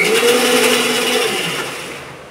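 A blender whirs steadily, loud and close, as it blends homemade mayonnaise of boiled eggs and oil, the motor noise easing slightly toward the end.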